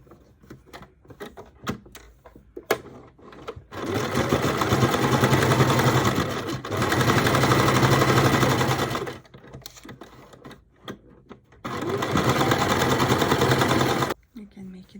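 Sewing machine stitching a seam on linen shorts, in three sustained bursts of rapid, even whirring and clatter separated by quieter gaps with brief handling noises and occasional talk.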